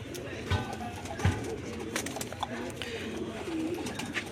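Pigeons coo softly in a loft in a low, murmuring rhythm with a few scattered bird calls, quiet and fairly close, under faint background noise.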